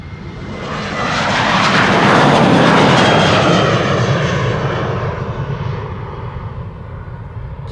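A KLM Boeing 737 departs Amsterdam Schiphol Airport on a sunny day, its jet engines swelling into a loud, broad roar that peaks and then slowly fades as it climbs away.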